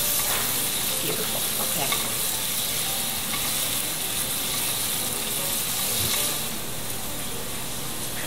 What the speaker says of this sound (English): Now I'm adding in my pancetta, and I'm going to let this go for about 3 minutes